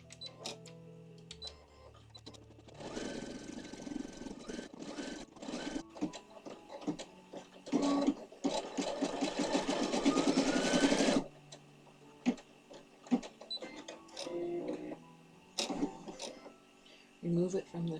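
An embroidery machine stitches rabbit fabric appliqué in a hoop, its rapid mechanical hum running in two long loud bursts with quieter pauses and brief bits of speech between.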